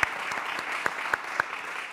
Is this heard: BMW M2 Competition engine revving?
no